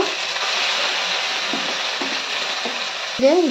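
A spice paste of ground dry red chili and cumin with ginger paste sizzles and fries steadily in a pan, a continuous close crackle with a faint stir near the end.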